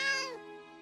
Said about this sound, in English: Ambrose, come here and say hello to my nephew's kitty cat, Tim.